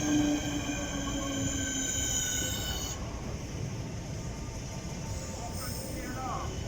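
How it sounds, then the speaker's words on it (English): A DLR train pulls out of Greenwich station, its motor whine and high squealing tones fading after a few seconds to a rumbling roll, with speech over the top and a faint squeal returning later. "And off goes the DLR a few seconds afterwards"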